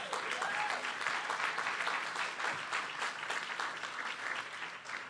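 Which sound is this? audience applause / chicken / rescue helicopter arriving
audience applause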